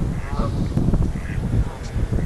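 Canada geese honk at a bird sanctuary, their calls rising over a noisy, broadband outdoor background with wind or crowd rumble, a few harsh honks standing out briefly.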